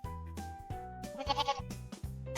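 A sheep bleats in a series of wavering, nasal calls with short gaps, close and fairly loud, with no talking.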